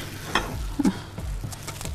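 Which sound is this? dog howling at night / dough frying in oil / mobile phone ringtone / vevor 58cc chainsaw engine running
dough frying in oil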